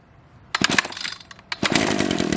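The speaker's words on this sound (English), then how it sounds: "Oh, it was the chainsaw." A chainsaw is pull-started: after a quiet moment come quick rasping cord pulls and sputters, then a second pull catches and the engine roars into a steady idle.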